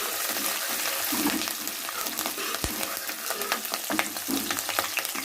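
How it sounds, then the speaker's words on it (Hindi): Green chillies fry with browned onions in a pan on a home stove, giving a steady, close, dense sizzle with light stirring scrapes and one short knock midway, and no voices. "अब मैं इसमें ऐड करूँगी हरी मिर्च।"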